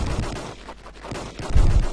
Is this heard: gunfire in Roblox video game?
yes